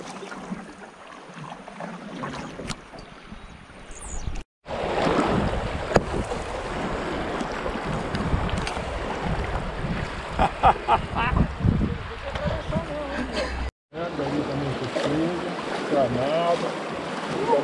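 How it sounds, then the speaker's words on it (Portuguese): A canoe is paddled on the Paraíba do Sul river, with water sloshing against the hull and wind buffeting the microphone while people talk nearby, and a couple of brief dropouts break the sound. "eu vou ter que remar"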